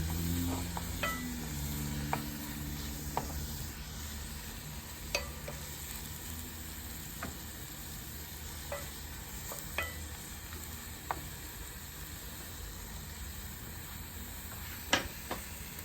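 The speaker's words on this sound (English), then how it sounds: "Need to ensure stirring the onions regularly" Onions sizzle in a pan over a South African braai fire, a soft continuous hiss broken by occasional sharp clicks and scrapes from regular stirring, fairly quiet and steady.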